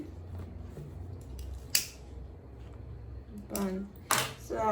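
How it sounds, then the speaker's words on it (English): Scissors snipping sewing thread while making an Ankara and leather bowler bag, a few short sharp cuts scattered across the clip, close and crisp against a quiet room background. "I'm just going to cut out the thread"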